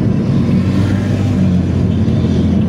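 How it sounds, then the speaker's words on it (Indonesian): A Putri Jaya Baru Karpel intercity bus from Cirebon, running the Karangampel–Indramayu–Jakarta route, drives along the Pantura road with a loud, steady, close engine rumble and road noise throughout. "Bus Cirebonan Putri Jaya Baru Karpel"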